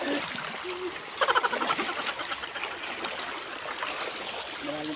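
River water flows steadily as people wade across it, a constant close rushing and trickling with a few brief splashes, loud and continuous throughout.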